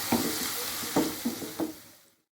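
Salt, turmeric and dried chili sizzling in hot oil, with a spoon scraping through them in about four distinct stirring strokes over a steady fry hiss, close up and fading out at the end.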